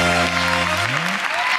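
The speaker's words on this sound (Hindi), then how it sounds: "तालियां बजाएं इनके लिए" An audience at a celebrity game show claps loudly and steadily in a dense burst of applause, while a person's voice carries over it.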